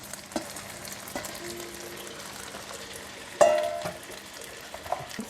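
Bean sprouts stir-frying in a wok with chili and crispy fried garlic for fried kuey teow, a steady low sizzle with a louder burst of frying and stirring midway, then settling back.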